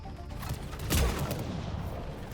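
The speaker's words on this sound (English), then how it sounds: "Shall we use the sniper rifle?" Sniper rifle fires once in Mass Effect 3 during a firefight, a single sharp loud report with a brief boom over a low rumbling game background.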